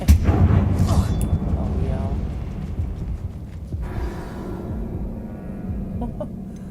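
Confringo explosion spell cast in Hogwarts Legacy, a booming blast at the start with rumbling debris that fades, followed by scattered game sounds and a lower steady background, with a voice heard amid it.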